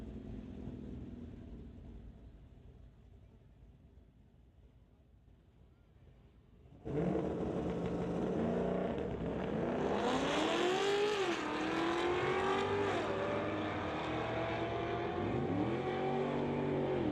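A Camaro and a 1969 Beaumont launch side by side at a street-legal drag race, low rumble before a sudden loud roar of accelerating engines with rising gear sweeps, sustained and close.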